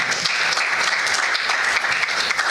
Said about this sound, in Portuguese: Vamos dar uma salva de palmas para nós.